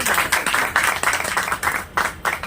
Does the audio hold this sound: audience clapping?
yes